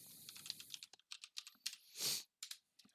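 Someone types a password on a computer keyboard, a quick irregular run of soft key clicks with one longer press partway through, close and quiet.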